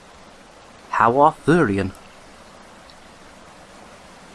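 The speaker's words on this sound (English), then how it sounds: "I'm behind a waterfall." Constant rushing water from a waterfall in The Dark Mod game fills the background as a steady broadband wash, with a short line of speech briefly on top.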